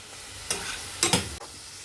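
Carrots sautéing in a pan with green chillies and curry leaves for a green peas curry, heard as two short bursts of scraping stir and sizzle over a low steady hiss, no talking.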